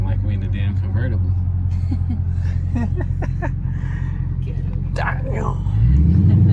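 Low, steady exhaust rumble from a Dodge Charger Scat Pack Widebody cruising with the windows down, droning continuously under people talking inside the car and swelling louder near the end.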